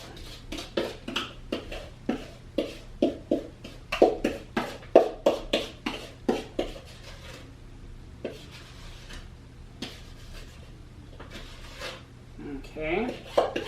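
Chocolate chip cookie dough scooped out of a bowl, a rapid series of scraping, clacking strokes from a utensil against the dish, then a pause before more scraping and handling noises.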